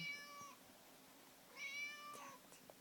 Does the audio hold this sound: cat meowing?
yes